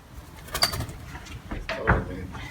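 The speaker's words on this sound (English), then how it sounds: "it's a pretty big bird just to grab" A large bird, apparently a pigeon or dove, loose inside a school classroom gives a few short cooing calls and flutters, fairly close, amid light room noise and movement, with faint voices in the background.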